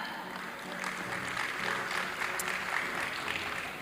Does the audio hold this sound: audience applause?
yes